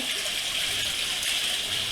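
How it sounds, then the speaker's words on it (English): Water draining out of aquarium filters after the pump is switched off, a steady hissing gush and trickle, close and continuous with no voices. "it just takes a moment for the water to kind of drain out of the filters"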